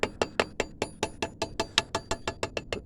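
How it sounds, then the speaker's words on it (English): A hammer lightly taps a piston down into the bore of a Predator 301cc small engine during a rebuild, about fifteen quick, evenly spaced metallic taps, close and clear with no talk. "Give a couple taps on that piston"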